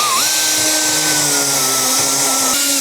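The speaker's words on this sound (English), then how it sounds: "and then I'm gonna completely DA everything." A pneumatic DA sander whines at a high, steady pitch as it sands a fabricated part, loud and close for a few seconds with slight shifts in tone.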